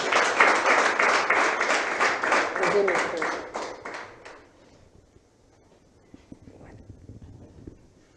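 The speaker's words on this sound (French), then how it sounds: "Nous allons accueillir M. Tikande Rabiou qui s'avance sous vos applaudissements." Audience at a staged talk event claps in a loud, distinct burst for about four seconds, then the clapping stops abruptly, leaving quiet room sound with faint speech.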